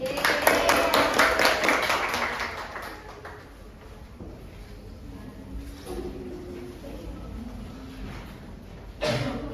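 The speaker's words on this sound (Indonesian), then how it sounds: "Tepuk tangan." Schoolchildren in a primary classroom clap their hands in a quick, loud burst of many overlapping claps that fades after a few seconds into quieter room noise and murmuring voices.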